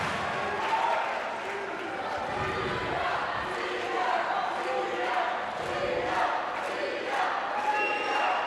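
A loud, steady roar from the crowd at a youth wrestling bout at the European Youth Olympic Festival in Tbilisi, 2015, with swelling cheers and shouts and a commentator talking over it.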